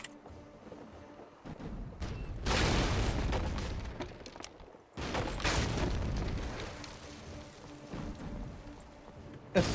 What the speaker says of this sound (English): time to make use of those guns